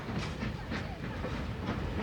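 A special expedition train, made up of freight cars, passenger coaches and a dining car, runs on the Tian Shan railway with a steady, continuous rumble and faint rhythmic clatter, heard from inside or near the train.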